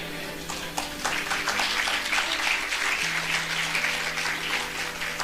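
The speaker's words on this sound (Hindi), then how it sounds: "देखो तालियां बज रही हैं।" An audience breaks into dense, sustained applause, a loud, even wash of clapping over a faint steady hum, lasting the whole moment.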